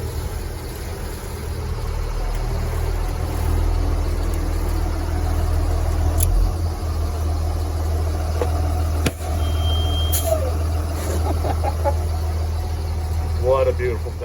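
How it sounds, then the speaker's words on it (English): The 225 hp Cummins diesel engine of a heavy 2004 BlueBird bus drones with a steady low rumble while moving, with road noise, a few clunks and someone talking over it. "This little 225 horse Cummins gets it moving in no time."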